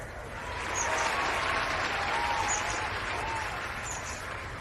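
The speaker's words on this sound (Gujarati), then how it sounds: "તે ખ્યાતનામ નૃત્યાંગનાનું સ્વાગત તાળીઓના ગડગડાટથી કરીશું" A stage audience welcomes a renowned dancer with sustained applause, a dense wash of clapping that swells and holds for several seconds and then eases slightly, with faint voices mixed in.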